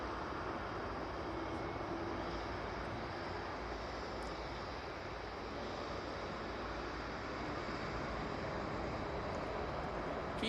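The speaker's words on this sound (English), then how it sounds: "Next in we have the Gulf Air coming in from Bahrain using the beautiful 787-9 Dreamliner" A Gulf Air Boeing 787-9 Dreamliner arriving at Manchester Airport from Bahrain gives a distant, fairly quiet, even jet rumble and hiss that holds steady throughout, heard alone.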